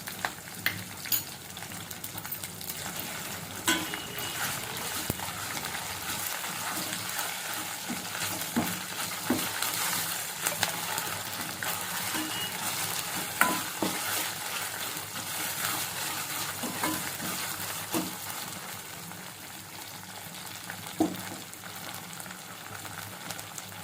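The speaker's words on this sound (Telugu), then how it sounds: "వన్ టేబుల్ స్పూన్ అల్లం వెల్లుల్లి పేస్ట్ వేసి పచ్చి వాసన పోయేంత వరకు బాగా వేసుకోవాలి" Green chillies, curry leaves and ginger garlic paste frying in oil, a continuous close sizzle with stirring scrapes and occasional spatters running throughout, no voices.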